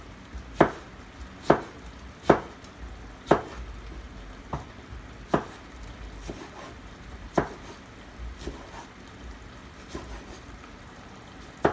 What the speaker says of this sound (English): I'll dice up some fresh tomatoes in there, like some chunks.